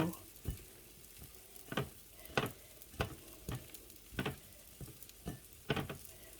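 Eggs for a Thai omelette (khai jiao) crisping in a pan, a steady low sizzle broken by repeated sharp scraping and stirring strokes at irregular intervals, close and fairly quiet with no talk.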